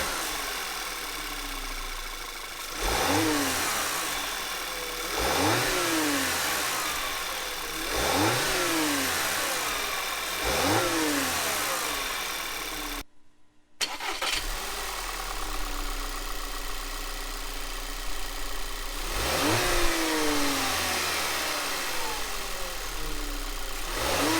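A VW Tiguan 2.0 TSI engine, just fixed after a rattling wastegate fault and low boost pressure, idles and is revved up several times in a row, with a brief cutout midway and no talking.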